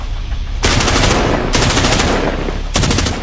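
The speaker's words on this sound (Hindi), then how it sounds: "एकाएक 3 गोलियों का राउंड सुनाई पड़ा।" Loud automatic gunfire in three rapid bursts of rounds, each a dense crackling volley, close and intense with no talk.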